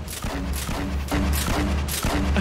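Fortnite grenades detonating in quick succession, about five heavy booms spaced roughly half a second apart, loud and close with a dense rumbling background between blasts.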